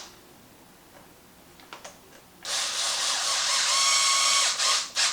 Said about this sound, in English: I'm going to put it in my Hypertough so I can reach in between here and tighten this lower one.